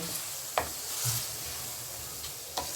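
Ground spices with salt and turmeric sautéed in a frying pan for masala kofta, giving a soft, quiet sizzle with a couple of sharp scrapes from a stirring spoon, close by and without talk.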